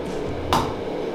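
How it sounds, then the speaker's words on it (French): A fairly light hammer strikes metal once at a beginner's forge, a single sharp, bright blow standing out briefly against steady background noise. "le marteau est quand même léger celui-là"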